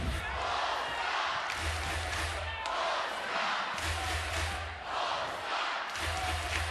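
Basketball arena crowd at the FIBA 3x3 U23 World Cup finals reacting angrily with loud, sustained roaring and shouting that swells and dips in waves, dense and steady throughout.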